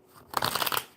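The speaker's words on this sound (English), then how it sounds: "One more good shuffle." A deck of cards being riffle shuffled, a quick rapid flutter of fast clicks lasting under a second, close and fairly soft, alone without talk.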